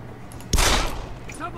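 Gunfire in Deus Ex: Human Revolution: a sudden loud burst of shots starting partway in, sustained and dense for a moment, then tailing off under game sounds and a voice.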